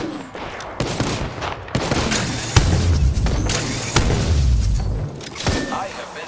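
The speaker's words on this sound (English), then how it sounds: "The enemies are shooting at me." Enemy gunfire in a shooter video game: rapid bursts of shots and heavy booming impacts crackle loudly and repeatedly, with sharp individual reports between sustained volleys.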